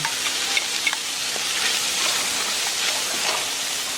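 Salted cod and onion sizzle in an oversized pot, a steady close crackle with a few brief sharper pops as the food is stirred.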